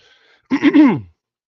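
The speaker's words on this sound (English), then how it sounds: "Sorry for clearing my throat." One short throat clear, a gruff two-part rasp lasting about half a second, close and loud against otherwise near silence.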